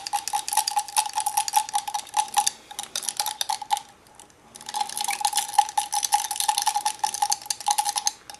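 Paint being stirred in a small cup to mix a skin tone for a resin anime figure, a rapid, continuous scraping clatter with a brief pause midway, close and steady.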